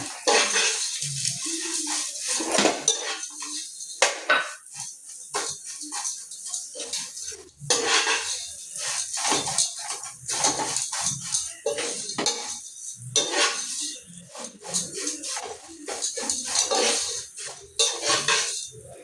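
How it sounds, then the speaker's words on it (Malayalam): Metal scrapes and rattles in a pan as vermicelli is roasted for semiya payasam, stirred and tossed in repeated clattering strokes, close and fairly loud. "സേമിയ ഇട്ടൊന്ന് വറുത്ത് ചുവന്ന്"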